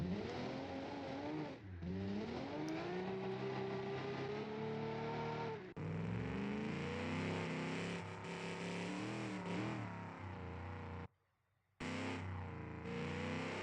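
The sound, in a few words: race cars lapping the track in BeamNG.drive video game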